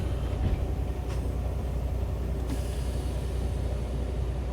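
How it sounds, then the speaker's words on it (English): A semi truck pulling forward slowly to test its trailer brakes, a steady low engine rumble and road noise with a couple of faint brief clicks, heard close with no talking. "We're gonna pull forward a little bit and test the trailer brakes."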